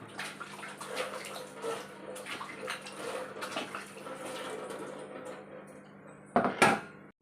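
Dishes and pots are washed under running water at home at night, with a continuous splash and trickle, scattered clinks of metal and utensils, and a louder burst of splashing near the end, without talk.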